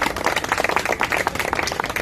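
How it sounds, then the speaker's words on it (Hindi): A crowd at an outdoor gathering of soldiers at Jantar Mantar claps in a dense, steady burst of applause, close and fairly loud throughout. "मैं चाहता हूं मेरे उस नफी सिंह भाई के लिए एक बार ताली दें"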